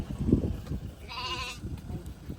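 A single lamb bleats briefly mid-clip on a village farm, a short wavering cry over low rumbling background noise with faint voices.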